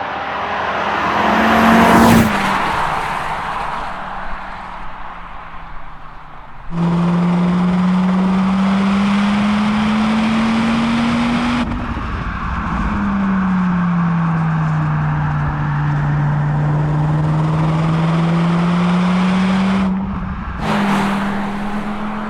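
An Audi RS2 engine revs hard and loud up close, its pitch climbing and falling through sustained pulls with abrupt throttle changes and short pops on lift-off, with no talk over it.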